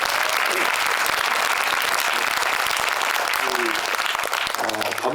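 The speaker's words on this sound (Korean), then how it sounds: "예, 잘 되셨으면 박수 한번" Cinema audience applauding at a Korean film screening event at Megabox COEX, a dense, steady wash of many hands clapping throughout, loud and close, with a brief voice rising near the end.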